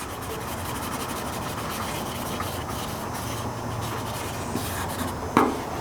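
Sandpaper rubbed by hand over a dented car body panel, a steady close-up scratching that runs without pause for about six seconds, ending in a brief sharper knock.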